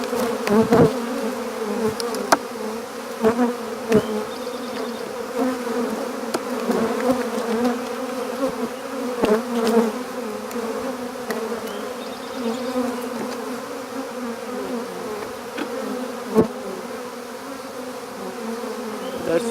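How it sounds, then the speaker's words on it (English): Honey bees buzz in a dense, steady drone close by during a spring hive inspection, with occasional sharper bumps and clicks over the continuous hum. "Some bees just do not like the camera."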